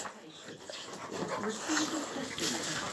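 An overexcited dog whimpers and pants close by in quick, breathy bursts and high little whines, steady throughout against a room background.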